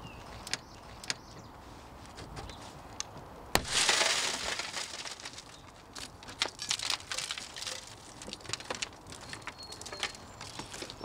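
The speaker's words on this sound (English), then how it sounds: "all it takes is a puncture in the corner with either a Halligan or a center punch, and it breaks into small pieces like this" Tempered car window glass shatters after a center punch strikes its corner during a vehicle extrication, a sharp loud burst followed by a few seconds of crumbling, crackling fragments and scattered clicks and ticks as pieces settle.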